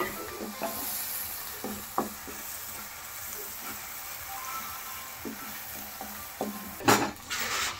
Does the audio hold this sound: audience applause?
no